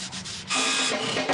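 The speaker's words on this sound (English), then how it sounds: "After sanding down" A brief, rough abrasive rubbing sound, sanding a wooden water-wheel blade, starting softly and then growing louder and denser for about a second.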